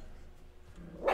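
A dog lets out a single sharp bark near the end of a quiet indoor stretch, fairly close and loud over faint background noise.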